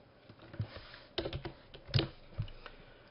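Quiet keystrokes tap on a computer keyboard in an office setting, a handful of separate clicks and short clustered bursts spread irregularly, close by with no talking.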